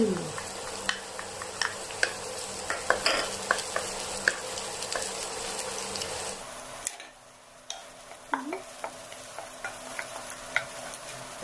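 Garlic and pork belly stir-fried in a pan for a salted chilli pork dish, a continuous close sizzle broken by frequent ticks and scrapes of a utensil, easing briefly midway before the clatter resumes.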